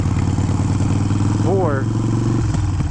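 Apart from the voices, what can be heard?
Harley Sportster 883 with Hammer 1275 kit engine revving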